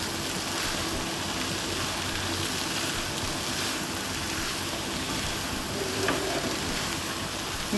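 Banana flower egg roast fries in a pan while it is mixed. A continuous hissing sizzle runs throughout, with faint soft scrapes of stirring underneath.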